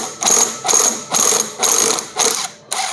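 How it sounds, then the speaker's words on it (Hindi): An impact wrench loosens the clutch bell nut on a scooter in six loud, close rattling hammering bursts, each about a third of a second long, separated by short pauses. "तो इम्पैक्ट रेंच से लूज़ करना काफ़ी ज़्यादा आसान रहता है।"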